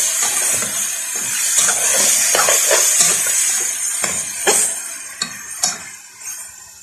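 Onions and meat fry in oil in a pot for a vegetable meat stew, with a continuous sizzling hiss. Clinks and scrapes of a spoon stirring break through the sizzle.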